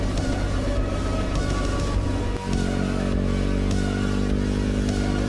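A motorcycle engine runs steadily on a dirt track with its throttle sticking, giving a loud continuous drone with rattly clatter and a brief dip in the middle, no voices.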